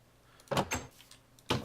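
A Minecraft tripwire trips in a minigame, giving a short losing cue: two quick clicking bursts close together, then a third after a pause, all near and fairly loud, with no talk.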